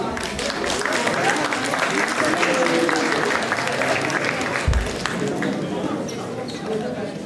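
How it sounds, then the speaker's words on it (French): An audience claps at a charity evening for breast cancer awareness in Dechy as a local beauty queen is called up, continuous applause with a low thump partway and some murmuring voices underneath. "On peut l'applaudir."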